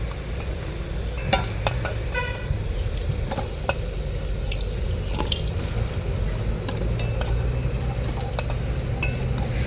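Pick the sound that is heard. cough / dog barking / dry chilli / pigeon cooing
dry chilli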